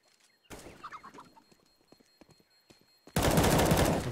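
Gunfire in a Counter-Strike match on the Inferno map: scattered shots and short bursts at first, then a sudden loud, sustained spray of automatic fire that dominates the end.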